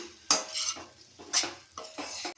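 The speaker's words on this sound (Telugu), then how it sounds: "ఇలా మొత్తం ఒకసారి కలిపేసుకున్నాం" A spoon stirs cabbage, potato and tomato curry in a pan, making repeated scraping strokes against the metal over a light sizzle, close and rhythmic with short pauses.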